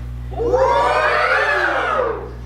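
A crowd at an engineering society council meeting in a meeting room screams and cheers together, swelling into one loud, sustained roar of mixed voices for about two seconds before it cuts off.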